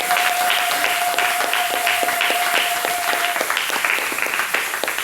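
Sustained congregation applause from a church crowd, dense and steady throughout, with a bright tonal whistle or feedback tone running through the first part.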